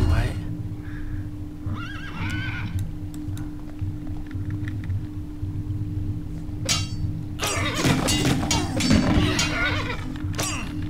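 Horses in the real-time strategy game Battle Realms, several loud whinnies and neighs over a steady game soundtrack hum, with hoof clip-clop mixed in and someone talking throughout.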